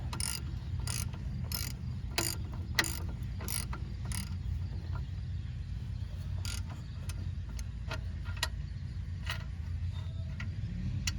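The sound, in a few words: ratchet turning a 21 bolt on Cadillac SRX rear differential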